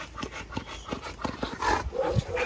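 A pit bull dog barks and scuffles indoors in short, irregular bursts at close range, with brief thumps and movement between them.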